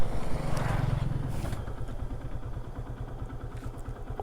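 A motorcycle runs along a hilly mountain road, its engine a low, steady, rhythmic putter that is louder at first and then settles to a quieter, even chug.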